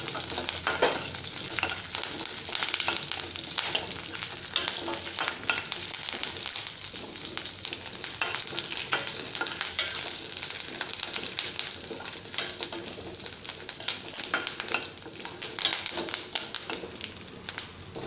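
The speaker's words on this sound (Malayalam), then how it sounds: "ഇഞ്ചിയും വെളുത്തുള്ളിയും ഒന്ന് ജസ്റ്റ് ഒന്ന് വാടി വരുമ്പോൾ നമ്മൾ എടുത്ത് വെച്ചിരിക്കുന്ന കറിവേപ്പില കൂടെ ഇതിൻ്റെ കൂട്ടത്തിൽ ഇട്ട് കൊടുക്കുക" Ginger, garlic and curry leaves sauté in hot oil, giving a steady, dense sizzle and crackle with occasional stirring taps, close and continuous throughout.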